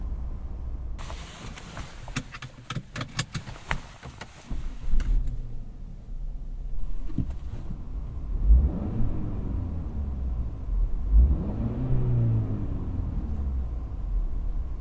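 A 2017 Volvo V60 Cross Country on a test drive. Steady low engine and road rumble runs throughout, with sharp clicks and rattles in the first few seconds and a couple of soft thumps and swelling tones later on.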